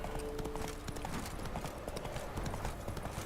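Roach the horse in The Witcher 3 clip-clops steadily at a walking pace, with rhythmic close hoof beats over ambient game sound and a faint voice underneath.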